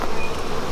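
Honey bees in a packed hive box drone in a dense, steady buzz that fills the whole moment, close and continuous without a break.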